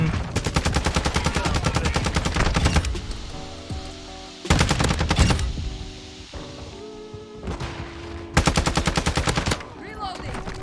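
Automatic gunfire in Call of Duty: Modern Warfare II, three long loud bursts of rapid shots separated by quieter stretches with game music tones and a faint voice underneath.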